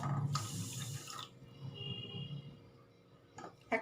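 Water is poured steadily into a cup of sugar to start a syrup for a Bengali milk-powder sweet. The pour runs close and continuous, ends with a soft trickle and a faint clink, and no one speaks.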